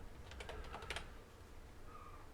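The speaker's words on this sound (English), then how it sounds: "And yes, I'm typing off screen" Typing on a computer keyboard: a quick burst of several light clicks, fairly near but quiet, then stillness with a faint tone under steady room hiss.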